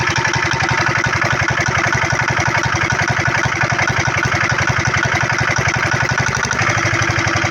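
A 6 horsepower Peter engine runs loudly and steadily close by, its rapid even chugging pulses rising slightly in pitch as it revs, with no voices over it.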